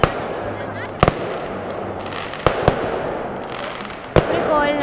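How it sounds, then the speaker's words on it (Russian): Outdoor fireworks going off in several sharp cracking bursts, spaced a second or two apart over a background of crowd noise. "Салют! Надеюсь, вам видно"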